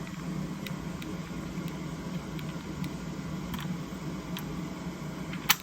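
A home furnace running in heating mode gives off a steady low hum and whir, with faint, irregular ticking clicks on top and a single louder tick near the end; no talking.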